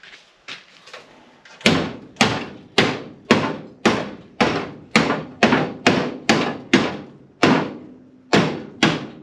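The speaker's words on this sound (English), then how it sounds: "Sometimes you just need a bigger hammer." Heavy hammer blows on a 1955 car's steel quarter panel during a hand-tool install, about fifteen loud, evenly paced strikes after a few lighter taps, each a sharp ringing metallic bang with no talk.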